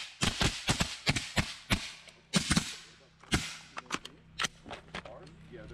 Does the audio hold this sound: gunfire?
yes